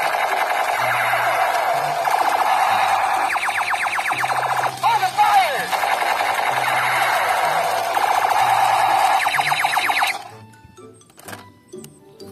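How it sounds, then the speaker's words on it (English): A toy sniper assault rifle gives off loud electronic firing effects: a continuous warbling, siren-like tone with fast rattling bursts for about ten seconds, then stops abruptly. "Sniper assault rifle."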